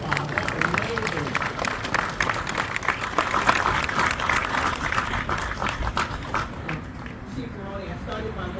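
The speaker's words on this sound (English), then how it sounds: "Give yourselves a round of applause" Applause from a crowd, a dense wash of clapping that holds steady for several seconds and eases slightly toward the end, with voices mixed in.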